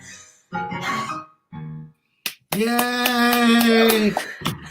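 A lone person claps a few quick, sharp times amid bursts of singing and talking, with a sustained tonal passage following.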